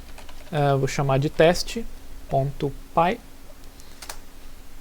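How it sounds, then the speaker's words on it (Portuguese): Keys clatter on a computer keyboard while someone speaks Portuguese over them as he types a Python file name during a programming lesson, with the clicks largely buried beneath his steady talk. "Então eu vou digitar aqui num arquivo de texto."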